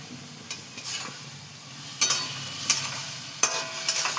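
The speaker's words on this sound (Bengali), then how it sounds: "এটা আমি এবার ভেজে ভালো করে বেশ কষিয়ে নেবো" A masala paste of tomato, ginger, green chilli and garlic fries in a pan with a steady sizzle, broken by several sharp scraping strokes of a stirring spoon. No one speaks.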